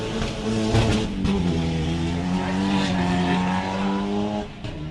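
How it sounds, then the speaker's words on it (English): A Mitsubishi Lancer Evo 7 rally car drives a forest stage at the Ashley Forest Rally Sprint, its loud, close engine holding a steady, strained drone with shifting pitch and brief tire noise throughout. "car number 10 up to the start line now, Jason McConnell in the Mitsubishi Lancer Evo 7"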